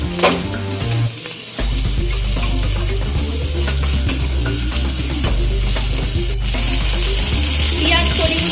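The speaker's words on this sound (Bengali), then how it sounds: "পেঁয়াজ কলিগুলো আমরা দিয়ে দিলাম। এবার এটাকে ভালো করে ভাজতে হবে।" Spring onions fry in a pan over already-browned onions while a tilapia curry is prepared, producing a loud, constant sizzle with stirring scrapes and clatter near the mic and no speech.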